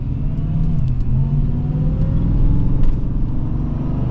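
A 2026 Ford F-150 FP700S pickup with a supercharged V8 pulls away at partial throttle, its deep engine rumble and exhaust drone rising steadily and loudly from close by, with faint supercharger whine above it.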